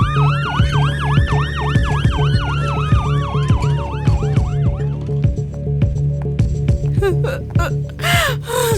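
An ambulance siren wails loudly and close, its rising and falling tone cycling repeatedly over a steady engine rumble, with the pitch sliding downward as the vehicle passes and the wail fading near the end.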